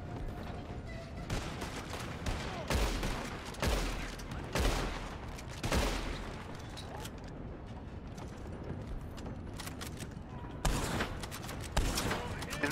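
Bursts of gunfire from a Red Dead Redemption 2 online shootout, repeated shots and volleys rolling over constant loud background noise, with voices talking over the action.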